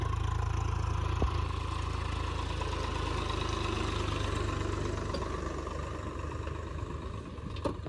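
A tractor engine runs steadily throughout while the machine climbs, a low continuous drone with faint clatter and a brief knock near the start, moderately close and without talk.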